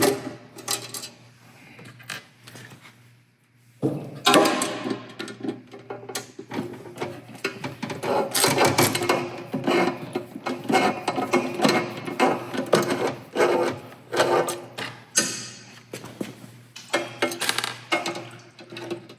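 Ratcheting screwdriver removing screws from a sewing machine belt guard, quick bursts of clicking ratchet action alternating with pauses, close and fairly loud, no talk.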